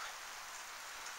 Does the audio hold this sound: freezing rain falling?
yes